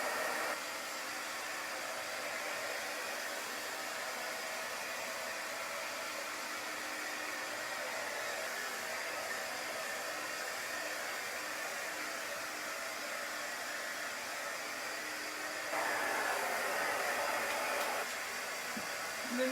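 A hair dryer blows steadily on a chalk-painted board, a constant airy whir close to the microphone, briefly louder near the end, with no talk over it.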